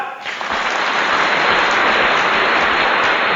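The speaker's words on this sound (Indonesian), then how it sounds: "Tepuk tangan." An audience at a primary health care outreach meeting claps together, a thick, loud, sustained round of applause that starts almost at once and keeps an even intensity throughout.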